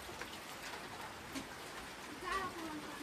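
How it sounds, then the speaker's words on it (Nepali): Rain begins falling in a hill village, a faint, steady patter of drops on surfaces heard close by, with a few soft bird calls in the background. "पानी पर्न थाल्यो नि"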